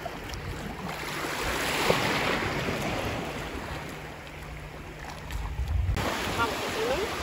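Ocean waves wash steadily along a hidden, deserted beach in summer, a broad continuous surge with wind buffeting the microphone throughout.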